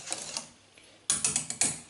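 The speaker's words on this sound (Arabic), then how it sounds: "صافي دابا غادي نطفي عليه." A few quick ratcheting clicks from a gas stove knob being turned off while cooking a custard cream, close and crisp, with a soft faint click before a louder cluster of three or four clicks.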